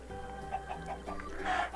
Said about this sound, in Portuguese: Meu Deus, aqui no mapa tá lotado de galinha.